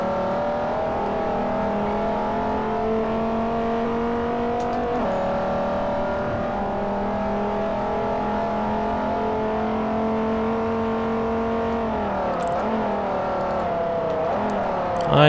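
Race car engine in Forza Motorsport 4, a loud, steady, distinctive engine note held at high revs, dipping briefly around shifts before climbing again, with no talk over it.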